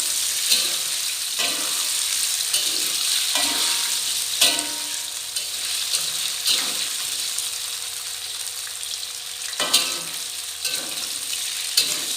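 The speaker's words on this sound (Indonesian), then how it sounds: "Kita goreng setengah matang dulu. Kita langsung goreng aja." Plain white tofu, unseasoned, fries half-cooked in hot oil with a continuous sizzle and crackle, broken by occasional louder spits and stirring knocks; no voices.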